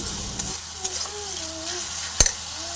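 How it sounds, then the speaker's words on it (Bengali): Spice paste for a tilapia fish curry sizzles and fries in a pan while being stirred, a steady soft crackle with a few sharper scraping knocks close by. "এই যে মশলাটা কষানো হচ্ছে"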